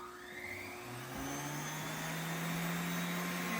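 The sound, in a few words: fresh air respirator blower running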